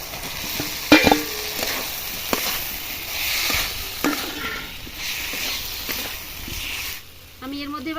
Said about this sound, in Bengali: মশলা থেকে কেমন তেল ছেড়ে ছেড়ে আসছে বন্ধুরা দেখুন এর মধ্যে এবার আমি আলু আলু ভাজা আলুটা দিয়ে দিচ্ছি